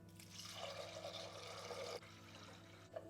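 Water poured into a pot of chana dal lentils with turmeric and salt, a steady splashing pour that runs for about two seconds and then stops.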